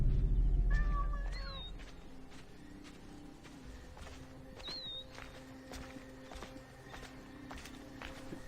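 A cat meowing in the ancient Egypt game Assassin's Creed Origins, a couple of short, fairly close meows over steady ambient rumble and light clip-clop footsteps.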